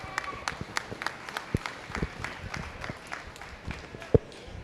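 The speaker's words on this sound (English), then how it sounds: "Give them a big round of applause." Scattered applause from an audience at a youth goat show arena, sparse claps that come and go at a low level, with no clear voices.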